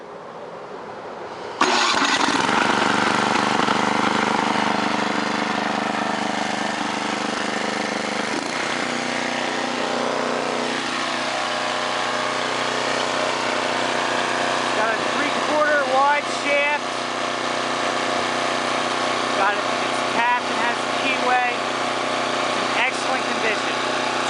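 A 21-year-old Tecumseh Snow King 10 horsepower engine is started with its electric starter, cranking briefly before catching and settling into a loud, steady, close-up running drone that holds to the end.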